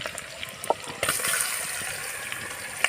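Water gushes into a cooking pot of fish pieces on a wood-fired stove with a steady pouring rush after a brief clink, close by and alone.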